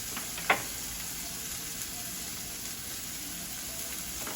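Mushrooms and turkey sausage sautéing in a skillet for a breakfast dish, giving a faint, steady sizzle with one brief clink near the start and no talking.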